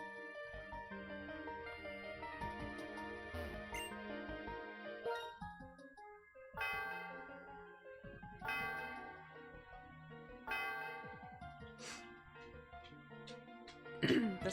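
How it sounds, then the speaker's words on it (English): Chiming bell of the Celestial Tower in the Pokemon White video game, ringing out in several resonant strikes over soft game music, each tone swelling and ringing on with a long shimmering decay. "The sound of the bell reverberates through the area."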